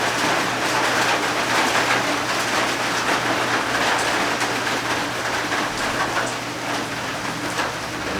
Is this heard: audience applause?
no